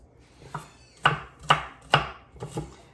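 Half an onion being chopped with a knife on a cutting board at home: five crisp, evenly spaced chops, the middle three loudest, close and clear with no talking.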